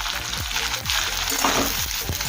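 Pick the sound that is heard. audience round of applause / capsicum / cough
capsicum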